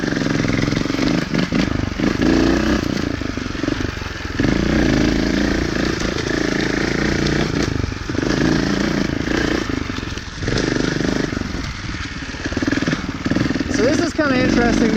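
A 2018 Beta Evo Factory 300 4T trials motorcycle rides near a mud hole, its engine revving and crackling steadily close by the whole time, with rises and dips in throttle.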